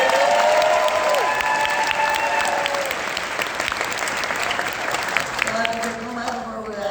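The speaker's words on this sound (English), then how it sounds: "Another applause, please" Audience applause fills a conference hall, a sustained dense patter of many hands clapping that slowly thins, with a voice talking over it early on and again near the end.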